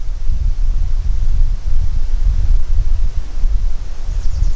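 Heavy outdoor wind buffets a microphone despite a fuzzy windscreen, a loud continuous low rumble with gusting swells throughout and no speech.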